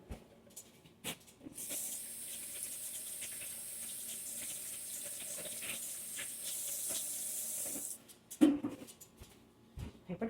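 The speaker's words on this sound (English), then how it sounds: "I'm gonna wash my hands." A kitchen tap runs steadily for several seconds as hands are washed beneath it during tortilla making, a soft continuous hiss of water that stops abruptly and gives way to a few clatters and handling noises.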